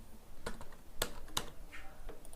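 A few sharp, close clicks of typing on a computer keyboard, irregular separate keystrokes spaced out over a faint background hiss.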